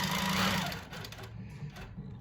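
A computerized long-arm quilting machine stitches an edge-to-edge design across a quilt, a fast steady mechanical whirr, fairly close and clear, easing slightly softer partway through with no voices.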